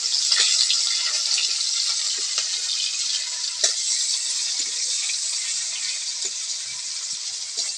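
Kalonji (nigella seeds) and chopped onion sizzle steadily in hot oil for a fish dish, a continuous bright hiss with small crackles and occasional stirring clicks, close and uninterrupted, with no talking.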